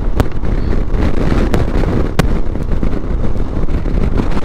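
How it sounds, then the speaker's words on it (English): Strong morning wind buffets the microphone outdoors on a motorcycle trip in Patagonia, a loud continuous roar with heavy low rumble and a few sharp gust pops. "got some wind in the morning"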